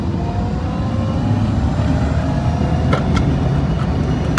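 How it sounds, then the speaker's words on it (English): An electric-converted Land Rover Defender accelerating in third gear, with a steady whining, groaning drone from the gearbox and transfer case. The rumble is continuous and fairly loud from inside the cab, with a few faint clicks near the end. "So things like the gearbox and the transfer case do whine and groan a little bit"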